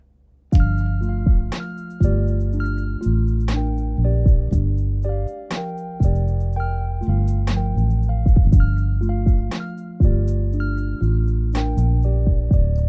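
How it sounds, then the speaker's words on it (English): Trilian bass synthesizer played live in one take over a backing track, with deep, loud bass notes in a steady rhythmic pattern under tonal chords and percussion. "Okay, then I added in trillion bass, which sounds like this."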